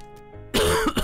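A single short, rough cough from someone who is still a bit ill, loud and close, breaking a quiet moment with faint background tones from a transport-building game.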